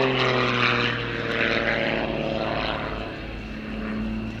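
A propeller aerobatic aircraft dives at high speed at Yeovilton Air Day, its engine giving a loud, sustained drone with a shifting pitch, heard steadily from the ground without any talking.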